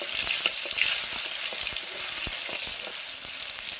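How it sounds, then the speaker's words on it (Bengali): Chopped tomato sizzles in oil with dried chilli and bay leaf, a dense, bright frying hiss that stays steady and close, with light stirring taps scattered through it and no talk. "টমেটো কুচিটা দিয়ে একটু নাড়াচাড়া করে নিই"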